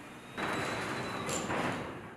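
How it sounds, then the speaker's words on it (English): A LiftMaster wall-mount garage door opener runs the door back to its fully open position, a rumbling mechanical travel noise that starts abruptly and continues steadily, fairly faint. "The door returns to the fully open position."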